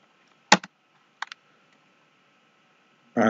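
A few isolated computer keyboard keystrokes, entering a PowerShell execution policy command: a sharp click, a short cluster of two or three taps, then a burst of noise at the end, close and otherwise quiet.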